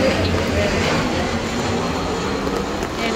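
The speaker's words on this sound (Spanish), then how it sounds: "Miren ahí el avión." An airplane passes overhead on a rainy day, a steady broad roar holding at a fairly even level throughout, blended with the wash of falling rain.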